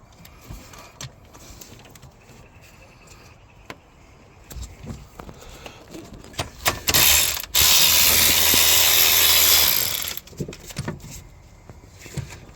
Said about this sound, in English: I'll just spin a wheel.